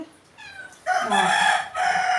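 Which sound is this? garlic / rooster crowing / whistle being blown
rooster crowing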